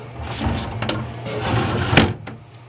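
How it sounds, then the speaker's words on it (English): A wooden drawer being tilted and slid into its groove, with close scraping and rubbing of wood and a couple of soft knocks as it settles. "I went ahead and set the drawer in there, and it just kind of, you tilt it, and then it goes into the groove."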